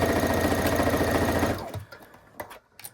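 A serger sewing machine stitching fabric runs at a loud, fast, steady whir for about a second and a half, then stops abruptly, leaving a few faint clicks and handling sounds.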